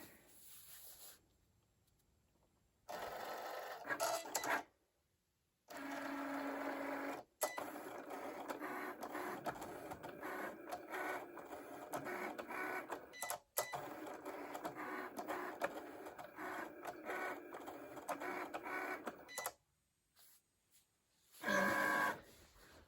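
A Cricut Explore Air 2 with its standard blade cuts an adhesive magnetic sheet, its carriage whirring and buzzing in steady mechanical passes with short pauses between, close and fairly loud with no talking.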